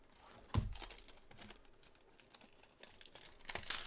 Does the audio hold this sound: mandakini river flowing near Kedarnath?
no